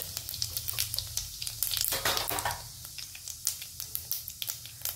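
Cumin seeds, added right after mustard seeds, crackle and sizzle in hot oil in a home kitchen pan, with a steady close hiss and many small irregular pops, and a louder burst near the middle.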